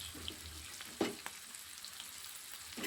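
Carrots frying in a pan as a pasta base, a soft, steady sizzle with one sharper clack of a utensil and a few faint stirring taps, quiet and without voices.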